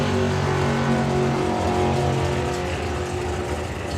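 A 632 cubic inch Camaro drag racing car roars at sustained full throttle at a drag strip, its loud, harmonic-rich engine note steady and continuous throughout.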